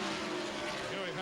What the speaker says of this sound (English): You can hear they're firing the truck up right now.